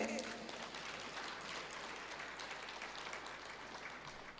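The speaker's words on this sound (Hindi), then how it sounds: "तालियां कमजोर है" A large audience at a Ram Katha religious discourse in Bhilai gives faint, thin applause, a soft, distant patter of hands that fades slightly over a few seconds.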